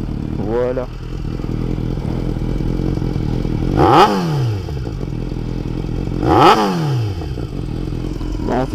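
Yamaha FAZER 600 motorcycle engine idling steadily close by, blipped twice into two short, loud revs that rise and fall back, with a brief scrape or clatter near the start.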